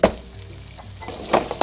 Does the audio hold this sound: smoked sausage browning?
yes